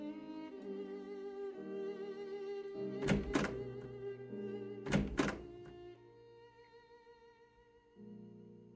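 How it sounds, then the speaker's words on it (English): Door in the Sherlock Holmes: The Awakened video game, heard as two loud thunking knocks or creaks about two seconds apart, set over a steady ambient musical drone. "I like how the door makes an opening sound, regardless if it's being opened or closed"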